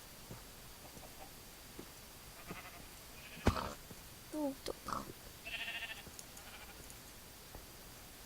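Minecraft sheep bleat in short, clear calls amid quiet game sounds, with a brief sharp hit and someone speaking briefly now and then.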